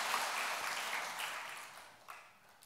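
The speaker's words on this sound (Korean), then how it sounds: "우리 나를 위해서 박수 한번 하겠습니다" A church congregation at a Korean church gathering claps together during worship, a soft, fairly distant wash of applause that gradually fades away, with a lone sharper clap near the end.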